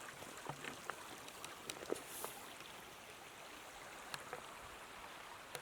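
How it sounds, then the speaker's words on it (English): The Owendoo River in Donegal flows past outdoors, giving a faint, steady rushing wash with scattered small splashes and trickles, heard alone without speech. "There's the river's making another big pool for itself on there."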